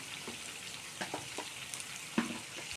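Chicken frying in a pan for murgi salan, a soft steady sizzle with occasional close scrapes and taps of a stirring spatula, fairly quiet and without talk.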